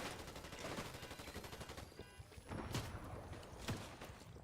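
Rapid SMG fire in a video game rattles in quick, dense bursts, faint and low in level, with a few sharper shots standing out.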